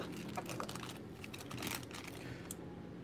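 Rapid clicking of keys on a computer keyboard during a Pokemon card opening stream, steady and close, with no one talking over it.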